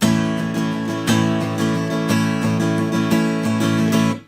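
Acoustic guitar strummed alone in a steady down-up pattern, with clear accents falling on beats one and four of each bar, played close and loud with no talking.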